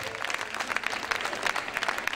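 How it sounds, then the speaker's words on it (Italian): Audience in a municipal amphitheatre applauding a performance, a short burst of steady, dense clapping heard from within the crowd at moderate level, with no voices over it. "fatemi sentire un piccolo applauso"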